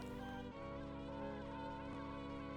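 Swarm of bees from the video game Banjo-Kazooie, a steady, dense droning buzz layered with game music, continuous for the whole stretch with a brief dip partway.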